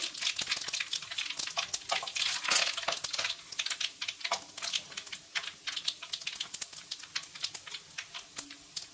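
Mustard seeds crackle and pop in hot oil, a dense, loud stream of sharp spattering bursts that stays close and continuous throughout, with no voices over it.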